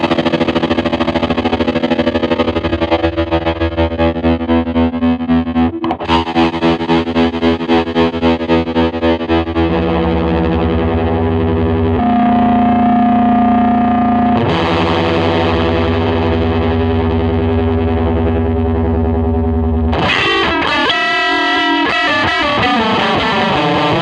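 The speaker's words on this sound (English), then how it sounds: "here's what that sounds like when I start matching frequency back up to original signal" Electric guitar through a ring modulator as the modulation frequency is swept back toward the pitch of the original signal, giving loud metallic, wobbling, distorted tones that shift and settle before a harsh burst near the end, with no voices.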